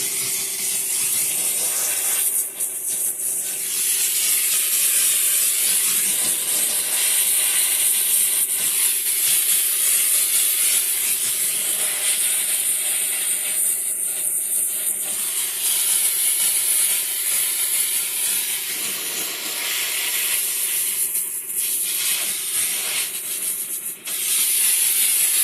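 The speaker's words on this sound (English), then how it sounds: "you just turn the machine on and off to start and stop the steam" A HAIMIM handheld pressurized steam cleaner working on carpet, a loud continuous hiss of steam with a steady tone underneath, broken by short pauses and scrubbing scrapes.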